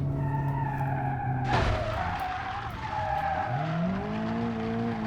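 A Honda Civic in the BeamNG.drive racing game skids with squealing tires and crashes. A sudden broadband impact cuts through the steady engine drone, and the engine tone keeps going loud and close after the hit, with no talk.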